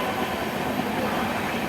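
Radhikapur Kulik Express running into Bandel Junction, a continuous low rumble of the moving train heard from on board, fairly quiet and even throughout.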